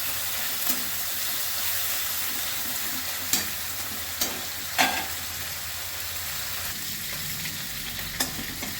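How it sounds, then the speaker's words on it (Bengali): Prawns frying in mustard oil in a home kitchen, a steady close sizzle with occasional sharp scrapes and clicks of a utensil stirring them in the pan. "এটা সর্ষের তেলে করব প্রথমে চিংড়ি মাছটা ভেজে নিচ্ছি"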